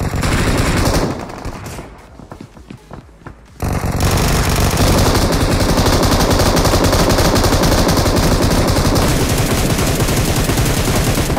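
Gunfire in the battle royale game BGMI: loud, sustained rapid automatic bursts close up, with a short quieter gap before the firing resumes and continues without letup.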